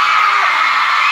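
A concert crowd at a live show screams and cheers loudly and steadily, a bright sustained roar of many voices with no gaps.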